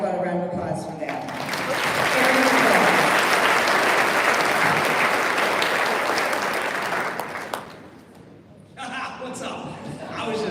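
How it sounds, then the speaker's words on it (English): An awards-ceremony audience breaks into full applause, a thick wash of clapping that holds for about seven seconds and then thins out, with people talking before it begins and after it fades. "How about a round of applause for that?"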